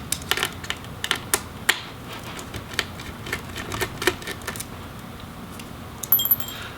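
Small screws are removed from the display hinge of a Razer Blade Pro RZ09 laptop, giving a run of light metallic clicks and ticks with faint scraping between them and no talk.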